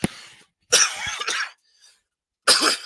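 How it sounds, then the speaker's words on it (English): Two or three sharp, harsh coughs from a lingering cough after a cold, close to the microphone, separated by short pauses, with a throat-clearing quality. "I've got this bloody lousy, lingering, irritating cough"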